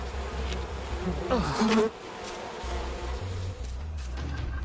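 Insistent bee buzzing swarms close around the player in the video game We Happy Few, swelling loudest midway before the drone thins into a lower background hum.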